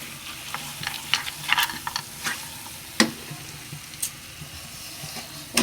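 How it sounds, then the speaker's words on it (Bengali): Nuts and raisins being stirred into semolina halwa frying in oil, a soft steady sizzle under scattered scrapes and clicks of a spoon against the pan, no talking. "এখন বাদামগুলো দিয়ে এটার সাথে মিক্সড করব"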